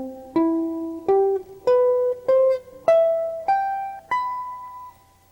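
A clean jazz guitar strikes a run of seven chords one after another, each ringing briefly before the next, stepping upward in pitch and ending on a chord an octave higher that rings out alone with no talking.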